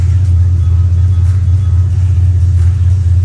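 A turbocharged SN95 Mustang engine rumbles steadily up close on a cold day, a deep, constant low drone with no clear rev swells, loud and alone with no talking.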